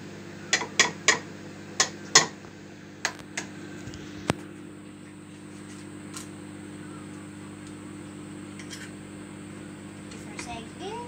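Eggs being cracked for a spice fruit brioche: a quick run of sharp, bright taps and clicks against a bowl in the first few seconds, then a quieter stretch over a steady low kitchen hum, with a few faint clinks near the end.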